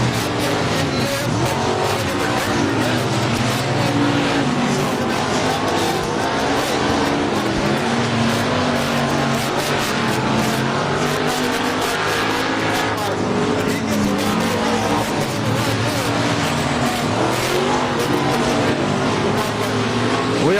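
Outlaw Street Stock race cars in a heat race at a Texas dirt speedway, engines roaring loudly and continuously as the pack circles, with an announcer talking over the noise.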